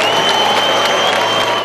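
An opera house audience at the Liceo fills the hall with loud, dense clapping mixed with crowd noise, some spectators applauding to drown out others booing the Prince and Princess of Asturias.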